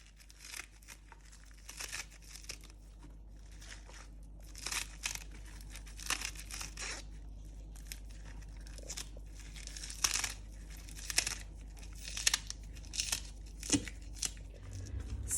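Baby spinach leaves cut up during vegetable pakora prep: close, soft crinkling and snipping crunches recur in irregular bursts for a long stretch, fairly quiet, with no talking.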